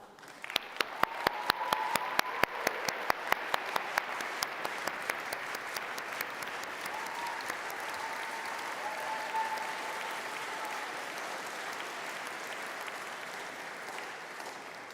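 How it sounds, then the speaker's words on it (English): A conference audience applauds a pianist being welcomed to the stage, steady hall-wide clapping that starts with a few loud distinct claps and settles into a dense, even roar for the full stretch. "please welcome with a warm round of applause to the piano"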